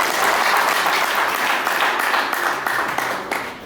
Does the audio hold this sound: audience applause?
yes